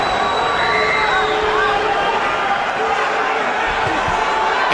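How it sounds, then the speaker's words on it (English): A boxing crowd at the Manny Pacquiao versus David Diaz fight roars in a dense, steady wall of cheering and shouting that fills the arena without a break, with faint whistles rising above it. "And you hear the adoration of the crowd."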